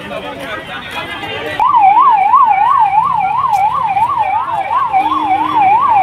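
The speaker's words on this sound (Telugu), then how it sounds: "అంబులెన్స్లు కూడా వెళ్తున్నాయి." A loud wailing ambulance siren cuts in suddenly and keeps cycling up and down steadily, nearby, over a rumble of traffic on a flooded street in Singh Nagar, Vijayawada.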